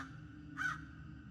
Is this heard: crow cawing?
yes